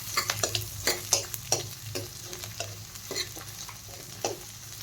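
Onion and capsicum sautéing in a pan over a low flame for veg Manchurian, a steady close sizzle broken by a series of sharp scraping stirs of a spoon against the pan, with no talking.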